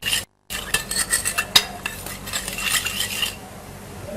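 Orange juice mixture being whisked or stirred in a bowl with a metal utensil, a run of quick clinking, scraping strokes up close after a brief silence, with no talking.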